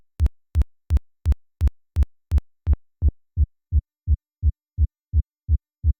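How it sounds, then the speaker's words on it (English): Kick drum repeated in a steady pulse through a hard square volume-shaping curve. The first eight hits carry a sharp bright click, then the click vanishes once smoothing is raised, leaving only soft low thumps. "if we play back a kick drum through this rather hard square shape, you can hear how it first clicks"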